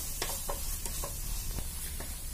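Onion, tomato and ginger sautéing in a pan for chicken curry with curry leaves, a steady low sizzle under a few soft stirring scrapes and taps of a spoon against the pan.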